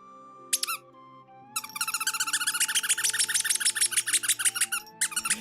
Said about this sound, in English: He fucking squeaks.